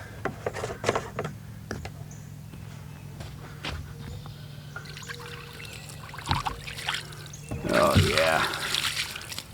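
Water being poured to rinse a granite headstone, splashing and trickling at close range, heaviest in a loud gush near the end among scattered footsteps and knocks.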